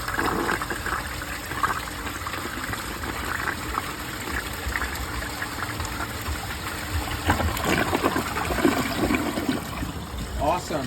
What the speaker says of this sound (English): now I will give this toilet a right side flush